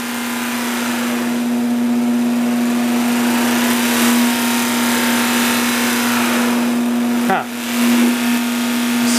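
Steady high whine of a Power Fist 8-inch variable speed polisher buffer motor running loud and close, its pitch dipping briefly and recovering as the load and speed change.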